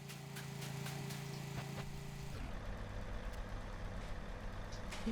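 Car engine from the driving video game A Dusty Trip, a rough, steady motor drone that shifts midway to a louder, grittier rumble as the car pulls away, continuous and fairly close with no talking.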